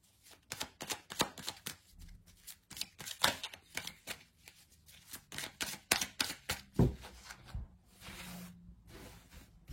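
Oracle cards from The Oracle of the Radiant Sun deck being shuffled and drawn by hand, a long run of close, crisp riffling snaps and slaps in uneven bursts with brief pauses between.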